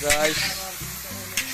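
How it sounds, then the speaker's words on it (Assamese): Duck meat sizzling and frying in a pan while being stirred, a steady hiss at close range with someone talking over it. "এই আপোনালোকে দেখি আছে হাঁহৰ মাংস ভাজি আছে।"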